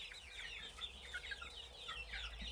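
Ayam Ketawa chickens, the Indonesian laughing breed, clucking in a rapid chattering series of high, wavering calls, several birds close together over a faint low hum, no speech.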